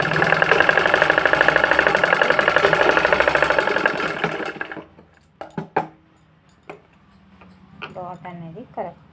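A sewing machine stitches the front panel of a blouse, running in a steady fast rattling whir for about four seconds before stopping, followed by scattered light clicks and handling noises.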